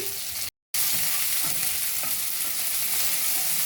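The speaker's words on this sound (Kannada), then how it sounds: "ಈರುಳ್ಳಿನ ಫ್ರೈ ಮಾಡ್ಕೋಬೇಕು ಈರುಳ್ಳಿ ಒಳ್ಳೆ ಫ್ರೈ ಆಗಲಿ" Cut onions with crushed garlic and curry leaves fry in oil in a pan while being stirred, a loud, close, steady sizzle with soft scraping strokes, broken by a brief moment of silence near the start.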